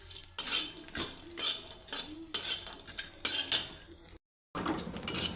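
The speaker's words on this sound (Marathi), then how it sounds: "सोडा चांगला भाजून घ्यायचा" Dried shrimp (soda) being dry-roasted in a hot kadhai, with a metal spoon scraping and stirring in steady strokes, close and fairly quiet, ending in a brief moment of silence.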